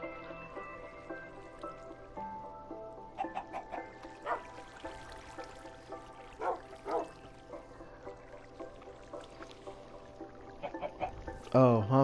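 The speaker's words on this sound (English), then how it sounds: "The chicken can't fly." Chickens cluck in Minecraft on PS4, a series of short, moderately near clucks scattered through the scene over ambient game sound, with a sharper burst near the end.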